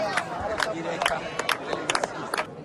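A crowd in St. Peter's Square, waiting for smoke, breaks into scattered rounds of clapping mixed with cheers and general babble, lively and close.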